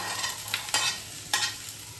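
Onions stirred into pork frying in a pan without oil for a pork curry, giving a steady close sizzle broken by two louder scraping stirs.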